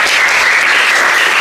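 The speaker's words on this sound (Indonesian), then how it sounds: "Tepuk tangan dong buat Mbak Aulia." A classroom of students gives a presenter a brief, close and loud round of clapping with many hands.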